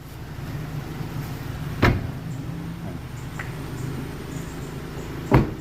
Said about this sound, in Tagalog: Pati mga pagsara ng pinto. Smooth na smooth.